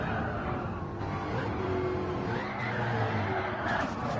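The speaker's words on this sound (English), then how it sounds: "listen to this Mustang engine, and the Mustang is not really a rally car" A Ford Mustang rally car engine in the Gran Turismo racing game, a steady loud engine drone with tire skid and squeal over a full, continuous bed of racing noise.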